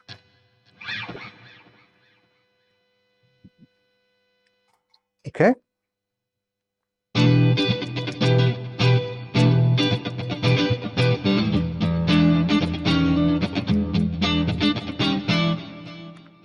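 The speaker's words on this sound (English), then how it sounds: "Now we have a clean sound without effects, just with a bit of reverb." An electric guitar plays through a Marshall DSL100H amp on a clean setting with a little reverb, giving a steady run of rhythmic, ringing chords. Before it starts there is a brief spoken word and a few isolated clicks.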